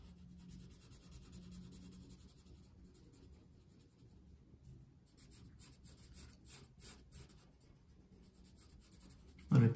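A marker rubs steadily across paper, filling a broad area of a cartoon drawing in light blue with soft, continuous strokes, faint and close, ending in a brief louder knock.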